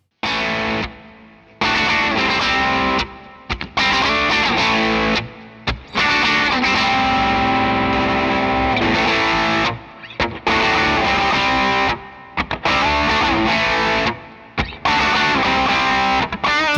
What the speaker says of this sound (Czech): A já teďka přepnu na takovej zkreslenější kanál a poslechneme si, jak to zní s ním.